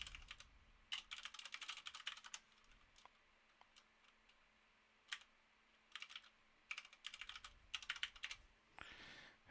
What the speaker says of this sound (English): I'll just type in my email address.